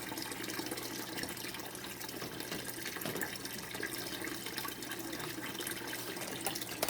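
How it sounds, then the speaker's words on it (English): Water flows steadily through a DIY aquarium vacuum hose into a bucket, a constant soft rushing and splashing with faint trickles that holds at an even, quiet level throughout. "Hit my foot switch and it's flowing again."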